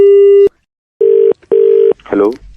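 A phone call cut off: a steady, loud disconnect tone in repeated beeps, followed briefly by a voice.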